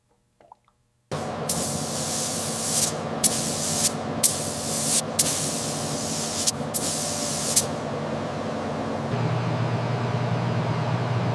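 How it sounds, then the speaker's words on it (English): Black paint sprays onto the fenders of a 1902 Stanley Steamer in about six loud, close hissing bursts with brief gaps between them, followed by a steadier hiss and low hum. "The 1902 Stanley Steamer fenders received their first coat of original black paint"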